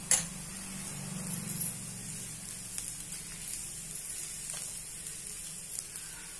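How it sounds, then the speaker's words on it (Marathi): Potato sheera roasts in a pan with a soft, continuous sizzle and faint crackling, steady throughout at low volume. "छान खमंग होतोय हा बटाट्याचा शिरा। छान भाजून घ्यायचा।"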